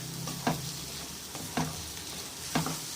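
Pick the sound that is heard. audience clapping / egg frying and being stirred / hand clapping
egg frying and being stirred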